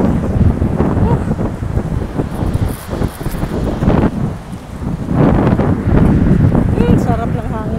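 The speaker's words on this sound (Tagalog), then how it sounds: "Sarap ng hangin dito sa may puno." Wind rushes steadily past the microphone beside a tree in Istanbul, a loud broadband buffeting that swells and eases in gusts, with voices talking underneath.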